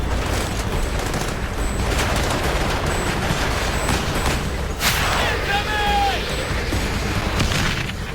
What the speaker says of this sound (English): They're under heavy mortar fire.